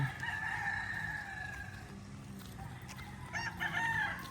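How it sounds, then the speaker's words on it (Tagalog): Roosters crow in long drawn-out calls, with clucking and other chicken noises over a steady outdoor background. "Lahat may manok dito."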